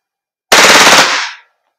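A WE Glock 18 Force Series T7 airsoft gas blowback pistol fires a single loud, close full-auto burst lasting about a second, its rapid shots blurring into one rattling blast before the clip falls silent.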